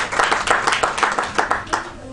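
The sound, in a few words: applause for the reunion organizers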